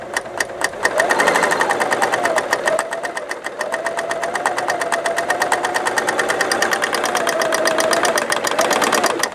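Bernina L890 serger sewing a chain stitch, a loud, fast mechanical rattle with a steady rapid beat, running close and continuously after a brief start, with a faint whine beneath.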